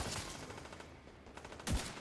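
Gunfire in a video game, quiet rapid shots forming a soft fusillade with one louder blast near the end, low in the mix.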